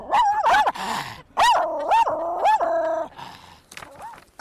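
A dog barks and yips repeatedly, close and loud, in an uneven series of excited calls with short pauses between bursts.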